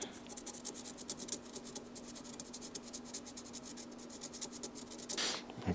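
A felt tip pen scratches and squeaks in quick repeated strokes across a part of a Seagull Models Extra EA 300L model airplane near the exhaust, close and fairly quiet, ending in a brief louder rub.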